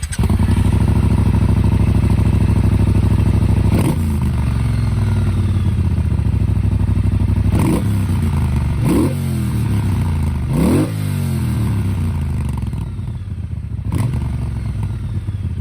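A 2019 Triumph Speedmaster motorcycle engine idles loud and close with a steady deep rumble, then blips up in several sharp revs around the middle and settles back to idle, with no voices.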